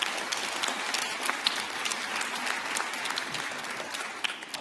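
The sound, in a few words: jazz concert audience applause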